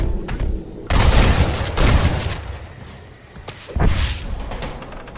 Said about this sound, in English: Jesus, they're shooting at us!